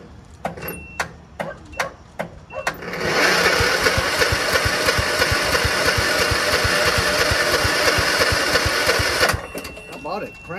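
A Scotts by Murray 1542 hydrostatic lawn tractor's engine, running off jumper cables, gives a few sharp clicks, then cranks with a fast rhythmic churning for about six seconds before cutting off; voices talk nearby.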